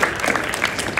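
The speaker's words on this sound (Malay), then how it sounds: "Tepuk tangan ke Prof Sandri." Short, lively burst of audience applause for Prof Sandri at a motivational speech, with clustered claps rising and falling.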